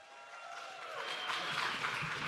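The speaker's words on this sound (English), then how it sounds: "Will you please make a huge round of applause for Anaphylactic?" Audience applause at a Manchester Pride conference, a steady wash of clapping that builds slightly, moderately distant and fairly faint.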